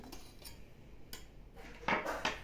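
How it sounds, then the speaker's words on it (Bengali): A knife scraping around the edge of a freshly baked hot milk cake in its metal tin, giving a few short metallic scrapes and taps, close and fairly quiet, the last one louder. "এখান থেকে চাকু দিয়ে চার চারপাশটা এরকম সরিয়ে"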